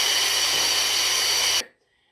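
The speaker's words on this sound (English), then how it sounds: "I'm going to flick the machine on just because that's supposedly better for the grinder." A XEOLEO Ghost Teeth electric coffee grinder whirs loudly and steadily at close range, a continuous high motor buzz that cuts off abruptly, leaving near silence.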